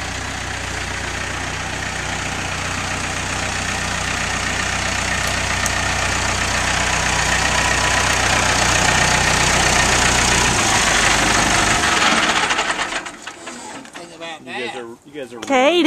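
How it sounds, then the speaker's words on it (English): Tractor engine idling with a steady low rumble and knock that then cuts off, followed by quieter moments with voices. "Kaiden, did you like the tractor?"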